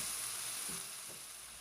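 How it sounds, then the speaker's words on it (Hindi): Biryani masala for mutton keema pulao frying in a pan, a steady close sizzle with a couple of soft stirring scrapes partway through, and no voices. "मसाले को अच्छी तरह से 4 से 5 मिनट तक भून लेंगे"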